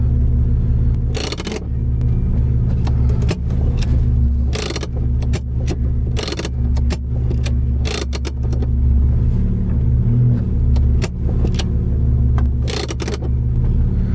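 A Datsun 280z with an L28 straight-six and straight-pipe exhaust drives on a curvy road, a loud constant droning rumble from inside the car, broken by repeated sharp clunks and rattles.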